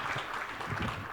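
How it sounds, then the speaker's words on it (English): An audience applauds at a keynote event, a steady wash of clapping that stays loud and continuous for the full moment without a break. "Big round of applause, folks."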